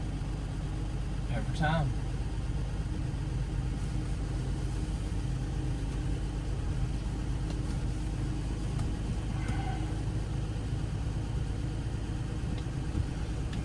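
A Plymouth Belvedere engine cold-starts and settles into a steady idle, a continuous low rumble close by, with a brief spoken phrase over it.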